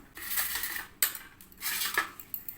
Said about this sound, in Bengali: এখন আম দুটো আমি কেটে নেব